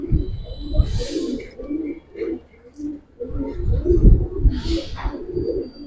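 Giribaz pigeons coo in low, repeated throaty bursts close by, with occasional faint rustles and chirps in between.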